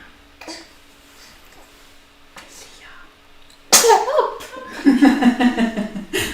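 Quiet room tone with a couple of faint knocks, then one sudden loud sneeze followed by a person's voice and brief laughter-like sounds.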